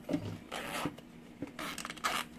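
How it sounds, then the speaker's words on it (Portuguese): A zipper on a small synthetic two-in-one mini backpack is moved by hand during sewing, giving several short, soft scraping zips close by, with a faint machine hum beneath. "joga o zíper pra lá"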